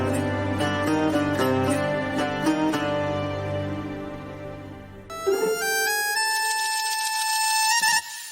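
A phone ringtone plays as a looping electronic melody, loud and alone, switching to a brighter, higher tone pattern near the end; the scene is from a Kannada TV serial.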